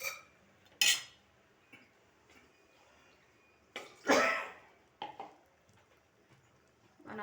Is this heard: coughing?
yes